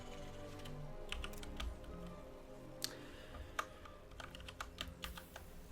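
Soft, quick keystrokes rattle on a computer keyboard in an irregular flurry, faint and close, with a few sharper clicks standing out and no voices over them.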